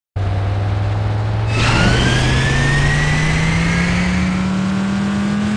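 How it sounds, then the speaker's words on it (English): An Audi R8 engine revs in the racing game City Racing 3D, a loud close drone starting abruptly and climbing steadily in pitch as the car accelerates, with a burst of extra roar early on. "Gentlemen, start your engines!"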